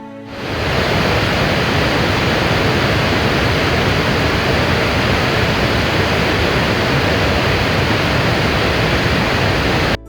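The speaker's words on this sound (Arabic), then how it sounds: "قبل أن ترى الشلالات ستسمعها، هدير يتردد عبر الغابة، يزداد قوة مع كل خطوة" Iguazu Falls in Brazil roars as a massive, unbroken wall of loud broadband rushing water, steady and enveloping throughout, with no voices.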